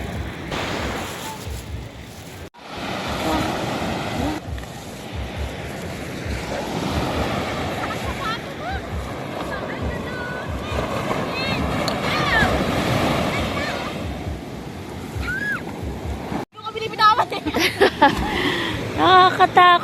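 Big ocean waves crash and roll at a beach in strong wind, a loud rumbling surf with gusty microphone buffeting, while several people talk and exclaim over it, with a brief dropout midway.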